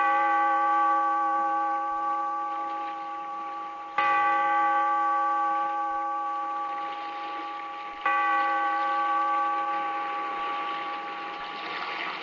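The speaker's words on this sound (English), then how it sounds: "Bellkeeper, toll the bell, so that all may know we are gathered again in the weird circle" A bell tolls three times as a radio drama sound effect, each stroke about four seconds apart and ringing on with a long, steady, slowly fading hum.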